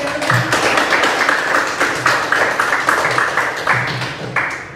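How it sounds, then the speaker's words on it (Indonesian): A classroom of students claps together in a teacher-led round of applause, dense and close, with rhythmic accented bursts recurring through the whole stretch and no talking over it. "mari kita tepuk tangan dulu"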